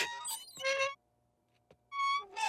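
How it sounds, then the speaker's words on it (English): A metal hinge on a cartoon car squeaks in short, bright, high-pitched bursts, several in quick succession separated by a brief quiet gap, loud and close. "the two metal parts in that hinge are rubbing against each other. That's what gives you a squeak."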